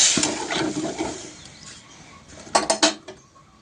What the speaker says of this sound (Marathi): इथं थोडंसं पाणी घालून घेऊया।